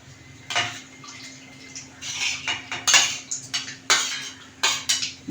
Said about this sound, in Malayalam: ഈ ലിവർ ഇതിലേക്ക് ഇട്ട് കൊടുക്കുക.